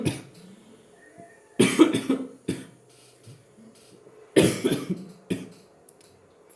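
A man coughs in two loud, harsh bursts a few seconds apart, with smaller coughs following each one, close to the microphone over quiet background noise.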